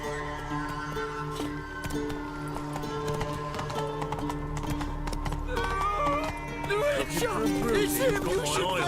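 Roach the horse's hooves clip-clop in a steady trotting rhythm in The Witcher 3, mixed with game music and ambience while a voice talks over the gameplay.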